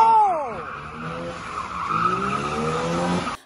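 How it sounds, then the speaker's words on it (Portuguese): Cars drifting on a street in Egypt, loud tire squeals sweeping in pitch over revving engines, close and continuous, a first screech fading before a second long skid builds and then cuts off. "vem os caras de carro e começa a fazer drift,"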